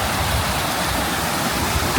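Water pours steadily from a waterfall into a shallow stream running over a submerged path, a dense, even rushing roar that fills the whole clip up close with no voices.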